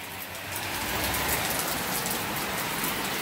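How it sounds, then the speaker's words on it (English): Heavy downpour of rain during a hurricane, a dense continuous roar of rain on surfaces, loud and steady with no talking. "The only thing I hear is just downpour."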